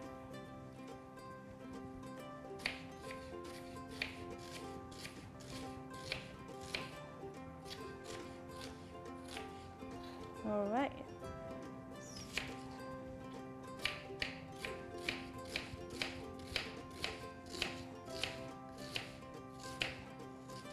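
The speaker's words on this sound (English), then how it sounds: "gonna do the julienne chopping of these as well" A knife julienne-cuts vegetables on a board in an even run of light, rapid taps, with a pause in the middle and a faster stretch toward the end, quiet under a steady background hum and a brief spoken word.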